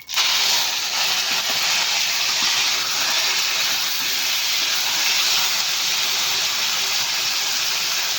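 Steamed taro stolons tipped into hot oil in a wok set off a loud, continuous hissing sizzle that begins abruptly and holds steady for several seconds, close up, with no voices.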